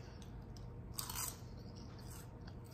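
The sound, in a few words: crunching homemade kale chips with olive oil and sea salt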